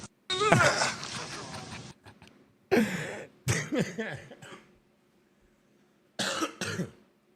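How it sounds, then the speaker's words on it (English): Harsh, raspy coughing fits from smoking weed, close to the microphone, several bursts separated by short pauses, with a strained throaty groan between them. "Got me coughing this weed up"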